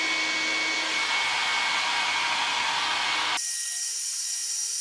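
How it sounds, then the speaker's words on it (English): A travel hair dryer blows with a steady, loud whoosh and whine, then abruptly switches to a different, thinner setting. "So we're going to use a hair dryer."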